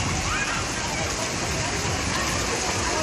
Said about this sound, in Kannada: ಯಾದಗಿರಿಯಲ್ಲಿ ಧಾರಾಕಾರ ಮಳೆಯಾಗಿದೆ